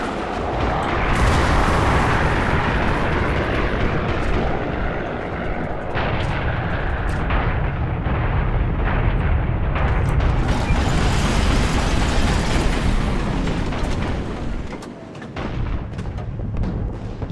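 Tank cannon blasts and explosions in the War Thunder video game, a continuous loud roar of engine noise and rumbling impacts with sharp booming hits scattered throughout.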